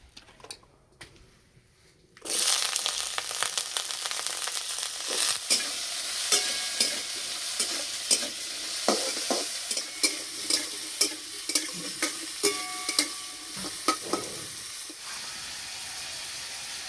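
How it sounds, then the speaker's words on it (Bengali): Potatoes fry in mustard oil in a wok with a steady, close sizzle that starts abruptly. Regular sharp clinks and scrapes from stirring break through the hiss. "প্রথমে আলু ভেজে নেব।"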